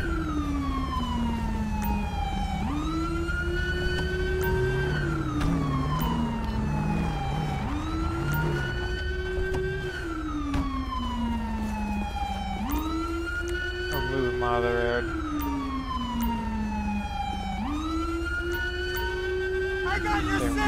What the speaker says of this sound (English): Please turn off your siren.